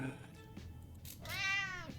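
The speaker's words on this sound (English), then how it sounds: "I heard a kitty cat." A cat in the game 60 Seconds! Reatomized meows twice, a short call then a longer rising and falling meow, close and clear with faint background noise.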